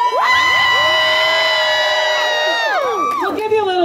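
A live audience cheers loudly, many voices joining in a sustained, rising whoop that holds steady for a few seconds and then breaks off into scattered shouts.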